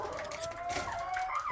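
Chickens cluck softly in an outdoor chicken pen kept near rabbits, a faint, continuous murmur of farm birds heard at a distance.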